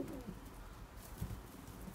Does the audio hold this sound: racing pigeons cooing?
yes